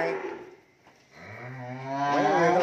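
Cattle at a cattle farm low and moo close by, one long rising call swelling louder toward the end after a short quieter gap.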